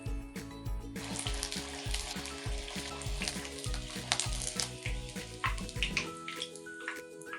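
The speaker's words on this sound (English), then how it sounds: "Fry for about 2 minutes until golden brown." Salmon pieces fry in hot oil with a loud, continuous bubbling sizzle over soft background music, steady throughout and easing slightly toward the end.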